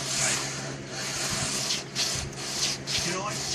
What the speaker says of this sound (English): you're letting the sandpaper do the work itself